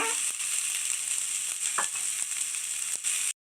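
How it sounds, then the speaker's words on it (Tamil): Curry leaves, coriander and mint sautéing in a pan, a steady bright sizzle with occasional light stirring scrapes. "இது எல்லாத்தையும் சேர்த்து நல்லா வதக்கிக்கலாம்"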